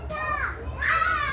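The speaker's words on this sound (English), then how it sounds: "You hear the kids screaming." Children's high-pitched screams and shrieks ring out in two bursts over a steady low rumble, somewhat distant and mixed with background noise.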